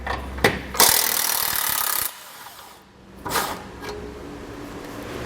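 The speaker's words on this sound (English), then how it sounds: "I'm going to take a 15mm socket and pull both of these bolts out" A 15mm socket pulling bolts from a 2021 Ford Ranger front end, with bursts of ratcheting and metallic rasping, a short sharp clank, then quieter scraping handling noises nearby.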